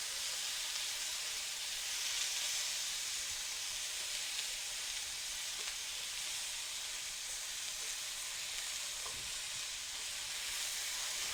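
Filet mignon searing in a hot pan, a steady close sizzle and hiss that runs unbroken throughout with faint scrapes as the meat is turned.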